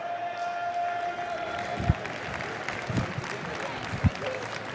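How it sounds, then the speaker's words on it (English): An audience at an esports grand final, a League of Legends event, applauds in a steady, moderately distant wash of clapping and crowd noise, with a few louder thumps over a faint background tone. "Give him a big round of applause"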